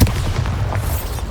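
A Bombarda blast spell in Hogwarts Legacy goes off as a single sharp, loud boom at the start, followed by a short rumbling tail.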